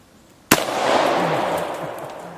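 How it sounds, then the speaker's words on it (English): A single loud, sharp gunshot fired at a can outdoors, an abrupt crack followed by a long, broad ringing decay. "All right, I'll shoot the can there again."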